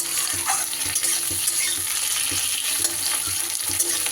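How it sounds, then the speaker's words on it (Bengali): Spice masala for egg curry fries in a pan with a constant close sizzle, broken by soft scraping stir strokes at an irregular rhythm; nobody speaks. "শুধু এই মশলাটাই একটু সুন্দর করে ভেজে নিতে হবে"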